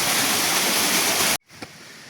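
Monsoon-fed water rushing through an Azad Kashmir village: a loud, close, continuous roar of flowing stream water that cuts off abruptly, leaving a quiet outdoor background.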